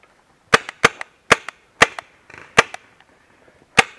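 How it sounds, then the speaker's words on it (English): Gunfire in a close-quarters online shooter match: a string of sharp, loud shots in irregular bursts, roughly seven distinct reports with short echoing tails over a few seconds, with no talking. "That guy's blind firing."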